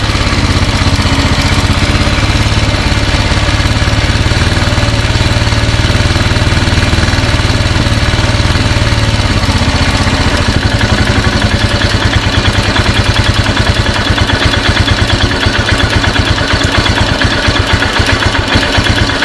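A Royal Enfield Himalayan motorcycle idles while its carburetor air-mixture screw is adjusted. The engine runs loud and close as a continuous, steady chug, and its beat shifts slightly partway through as the RPM changes. No talking.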